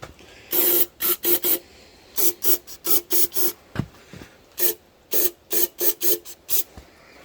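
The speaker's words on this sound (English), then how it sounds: "next step is we'll hit this with brake cleaner and let it dry" Brake cleaner sprayed from an aerosol can onto a Caterpillar D2 5J cylinder head, a series of loud close hissing bursts, short and repeated in clusters with brief pauses between.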